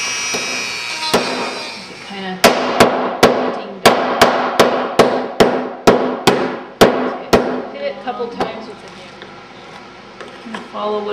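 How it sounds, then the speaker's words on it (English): A hammer strikes wooden doors about a dozen times to distress them, a quick, steady rhythm of sharp, close thuds, then the pounding stops and a low hum remains. "Follow what I did with the hammer and take some extra wood off"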